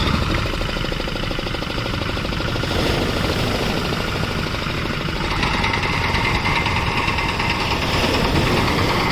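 A tractor engine rumbles steadily nearby while pulling a fishing boat ashore on a beach, a low knocking drone that runs continuously with slight shifts in load and no talking.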